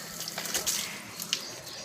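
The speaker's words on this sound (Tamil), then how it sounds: "தண்ணி விட்றான் செடிக்கு" Water is poured onto potted plants in a short, close splash and trickle lasting about two seconds.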